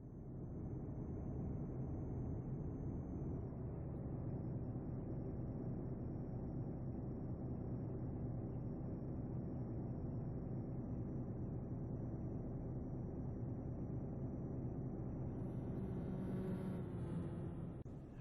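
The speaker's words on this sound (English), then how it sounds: "The sound of that Doppler effect as that truck goes past is pretty awesome." In Euro Truck Simulator 2, a steady, loud truck engine drone hums throughout, with a brief shift in tone near the end as another truck passes, and no talk.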